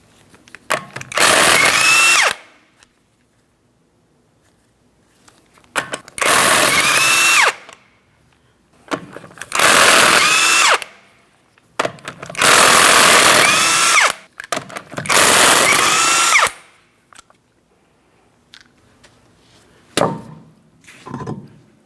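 An impact tool on a 2004-2008 Pontiac Grand Prix removes five 19mm lug nuts from the rear wheel, sounding five loud, buzzing bursts of about two seconds each, separated by quiet pauses and small clinks.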